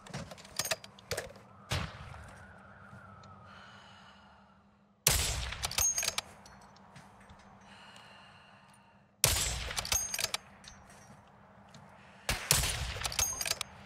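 Gunfire in Call of Duty Modern Warfare II DMZ: several sharp, loud bursts of shots arrive in separate volleys, with quieter game ambience and echoes between them.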